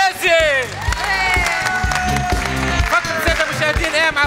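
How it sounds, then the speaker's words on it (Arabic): Studio audience applause on a Tunisian game show, Malla Twensa, a loud steady crowd clapping with some cheering, running under a host's voice as he talks over it. "أقوى بربي أقوى تصفيق عليهم"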